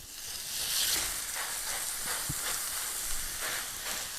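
Afghani gravy kebabs sizzling on an oil-sprayed hot griddle, a loud steady hiss with faint crackles and a few soft pops.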